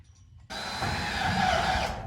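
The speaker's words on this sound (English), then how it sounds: "We're getting ready to screw it on place." A power tool drives a screw to fix a cut piece in place: one steady high whirring burst of about a second and a half, close and fairly loud, with no talk.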